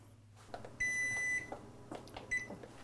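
An oven timer on a kitchen appliance signals that cooking time is up: one long, steady beep, then a short second beep, both clear and close over quiet room noise.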